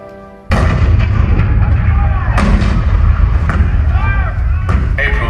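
Cannon fire representing the bombardment of Fort Sumter in 1861 booms repeatedly in a theatrical presidents show, several loud heavy blasts in succession over a rumbling, dramatic soundtrack.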